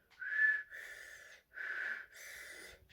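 A thin, reedy whistle rides on each breath, four soft pulses alternating in and out, quiet and close with nothing else around.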